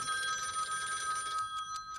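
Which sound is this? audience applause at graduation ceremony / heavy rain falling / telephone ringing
telephone ringing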